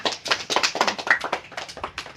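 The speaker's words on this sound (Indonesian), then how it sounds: "Tepuk tangan untuk Salma" Small class of students clapping for a classmate in a classroom lesson, a quick run of roughly a dozen distinct, evenly spaced claps, close and moderately loud with no talk over them.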